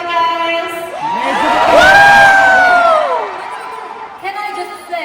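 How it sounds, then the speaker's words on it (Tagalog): A packed crowd at a pop concert on a world tour stop in San Francisco shrieks and cheers, high piercing screams swelling to a loud peak and then easing off into scattered yells. "wala kami naririnig na music, puro sigaw nyo"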